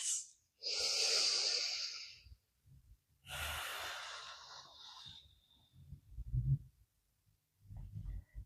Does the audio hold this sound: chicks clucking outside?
no